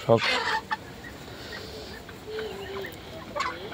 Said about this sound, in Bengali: আর এই যে মুরগিটা, এটা 2 মাস বয়স।